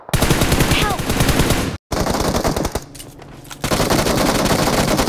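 Rapid automatic gunfire in the mobile battle royale game BGMI, loud bursts of dense repeated shots broken by a brief silence, with quieter shots and game sounds in between.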